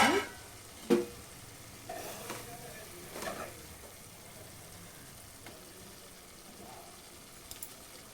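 Gongura chicken simmering in oil in a pan, a low steady sizzle of frying with a few stirring clinks near the start and scattered soft knocks throughout.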